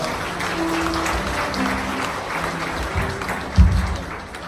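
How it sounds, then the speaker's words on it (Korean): Steady applause from a crowd at a wedding ceremony fills the whole stretch, a dense even clatter of hands with a brief louder burst near the end. "여러분 따뜻한 박수 부탁드리겠습니다."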